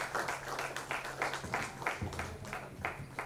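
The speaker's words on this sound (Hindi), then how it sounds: "आप सभी की जोरदार तालियों के साथ मंच पर, कि वो यहां पर आए।" An audience at a BIG FM award ceremony claps rhythmically as a guest is called to the stage, steady repeated claps in a regular beat at moderate level under a faint low hum.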